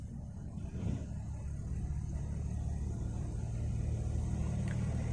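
A Tata Tiago CNG hatchback's engine hums as it accelerates, a low, fairly quiet rumble from inside the cabin that builds gradually with rising revs, with no one speaking.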